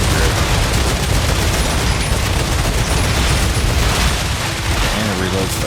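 Sustained machine gun fire in the video game StarRupture, dense rapid bursts and booms filling the whole stretch at high volume while a player talks over it.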